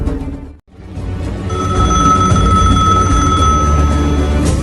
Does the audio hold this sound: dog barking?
no